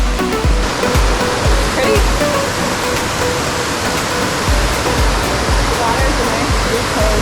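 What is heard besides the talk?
waterfall on a creek in Ouachita National Forest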